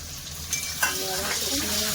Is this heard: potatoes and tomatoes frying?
yes